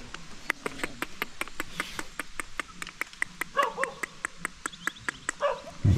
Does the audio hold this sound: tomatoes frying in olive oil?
no